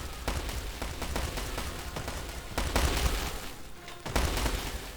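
Hand cannon gunfire in a real-time strategy game: a ragged volley of sharp cracks and booms, firing irregularly several times a second, with two heavier bursts over a continuous battle rumble and no speech.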